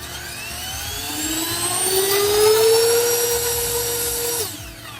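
A cordless handheld turbo ducted fan blower runs at its C setting with a rising whine that spools up steadily over a few seconds, holds a loud, close, high-pitched jet-like roar, then cuts off and winds down.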